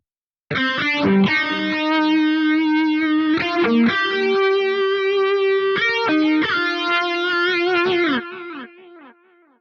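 Distorted electric guitar through the Archetype: Nolly X plugin, playing sustained chords and melodic lines with delay tails fully mixed in, ringing out alone and fading at the end.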